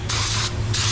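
Close, steady hiss of a paint spray gun laying down a pearl mid coat as a blended transition coat, coming in bursts with two brief pauses between passes.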